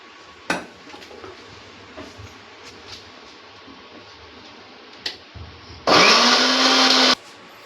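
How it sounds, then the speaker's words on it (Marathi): A mixer grinder whirs loudly in one short burst of about a second, grinding grated coconut, onion, tomato, green chilli, garlic and ginger with a little water into a spice paste, after a few light clicks and clatters. "मिक्सरला ना वाटून घेऊया हे वाटण"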